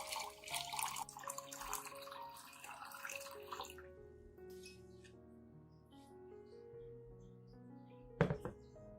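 Clean room-temperature water pours steadily into a coffee solution for diluting plant feed, a splashing rush that stops after about four seconds, followed by quiet and a single sharp knock near the end.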